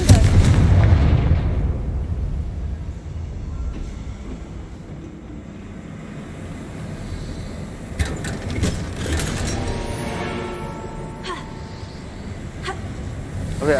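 The Confringo blasting spell in the Hogwarts Legacy video game sets off explosive booms, with a heavy rumbling blast at the start followed by a quieter stretch and sharper crackling impacts later on.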